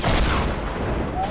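Heavy gunfire and explosive blasts in a Fortnite high-explosives game mode: a loud, continuous barrage of overlapping shots and booms, with voices faintly mixed in.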